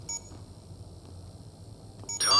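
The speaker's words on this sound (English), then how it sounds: "There should be a bomb downstairs too. Are you hearing a beep anywhere?" A bomb beeping in the tactical shooter Ready or Not, two short electronic beeps: one near the start and another near the end, separated by quiet room tone.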